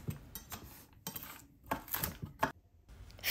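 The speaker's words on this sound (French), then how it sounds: "hachez 2 grosses poignées de cerneaux de noix" Walnut kernels chopped with a knife on a board, a series of sharp, close taps and knocks in an uneven rhythm with brief pauses between.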